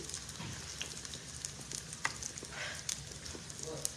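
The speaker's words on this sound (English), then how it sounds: "Thank God I'm frying now." Steak frying in a pan, a steady bright sizzle and crackle with occasional sharper spits and pops, fairly close and moderately quiet, with no talking.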